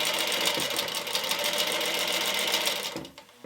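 A sewing machine runs a wide gathering stitch along a curved sleeve, a fast steady whir up close that stops abruptly near the end.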